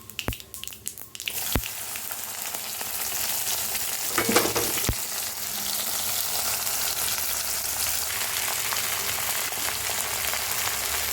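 Okra frying in hot oil in a pan with mustard seeds, cumin and urad dal: a steady, moderate sizzle fills the clip, with a few sharp clinks of stirring near the start.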